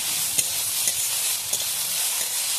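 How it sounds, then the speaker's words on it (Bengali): Ginger and garlic paste sizzles steadily in a hot pan, a loud constant frying hiss broken by a few soft scrapes of stirring at irregular intervals. "এবারে আমি আদা দিয়ে দেবো, রসুন বাটা দিয়ে একটু নেড়ে দেবো।"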